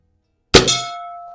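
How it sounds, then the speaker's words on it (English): A single sharp metallic clang as an air rifle pellet, fired from an Anschutz 335 vintage springer, strikes a steel gong downrange; a bright ringing tone follows and fades slowly, alone with no talk. "I have my gong down there for starters"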